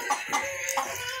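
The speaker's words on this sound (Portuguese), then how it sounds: "Vamos filmando as galinhas aqui." Farmyard chickens cluck in short, faint bursts that blend into low outdoor ambience over a brief moment.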